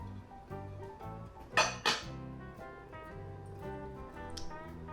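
Wet ingredients for zucchini bread are stirred in a bowl with a utensil, giving quiet scraping and a few sharp clinks against the side, close by, under a steady background hum.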